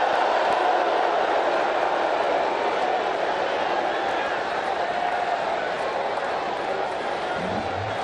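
A large cricket stadium crowd roars steadily with a dense, continuous wall of cheering and chanting. It stays loud and unbroken the whole time, with commentary voices blended into the noise.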